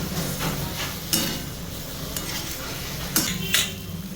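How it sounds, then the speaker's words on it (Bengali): Vegetarian potato curry stirred in a pan over raised heat, with bay leaf and green chilli, makes a steady low sizzle broken by several scraping clacks of a utensil against the pan, close up with no talk. "একটু আঁচটা বাড়িয়ে নিলাম, একটু নাড়াচাড়া করে জল দিয়ে দেবো।"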